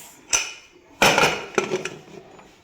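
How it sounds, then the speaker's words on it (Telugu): A few sharp metallic clanks and a scrape as a heavy pressure cooker lid is fitted and pressed shut, with quiet gaps between hits. "కుక్కర్ మూత పెడదాం ఫ్రెండ్స్"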